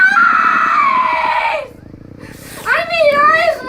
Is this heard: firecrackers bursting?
no